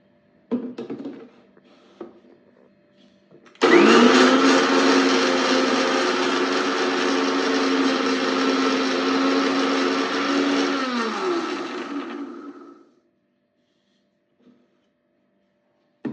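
A mixer grinder whirs loudly and steadily for about nine seconds, grinding ghee-fried drumstick leaves into powder, then winds down to silence, with a few brief clicks and handling sounds before it starts.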